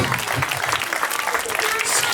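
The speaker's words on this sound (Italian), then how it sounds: "grazie per l'applauso, molto sentito" Audience applause fills a performance room, a steady dense wash of many hands clapping at moderate distance, with voices mixed in underneath.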